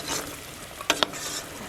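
Sugar cooking in a saucepan is stirred steadily, a soft continuous scraping hiss punctuated by two sharp clicks of the utensil against the pan rim, close and moderately loud with no talking.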